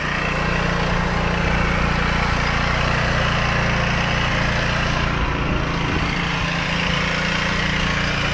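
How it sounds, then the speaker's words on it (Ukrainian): A small Chinese 125cc scooter engine idles steadily and loudly, with a faint rattling from a worn timing chain running under the motor throughout. "Ось так працює, трохи чути моторний ланц"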